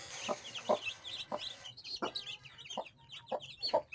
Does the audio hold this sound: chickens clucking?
yes